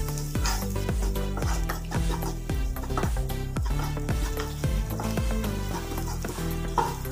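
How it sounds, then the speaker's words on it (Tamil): Garlic and onion sauté in a pan, with steady sizzling under a fast, rhythmic series of spatula strokes scraping the pan, close and continuous, with no talking. "இப்போ இந்த பூண்டோட பச்சை சுமல் போகிறது எப்படி நல்லா வதக்கிக்கலாம்"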